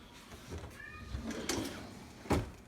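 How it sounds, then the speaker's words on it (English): A kitten cries softly from a short distance, a brief faint meow while waiting to come back inside a house, followed by light household knocks. "Kitten's already crying because he wants to come back in"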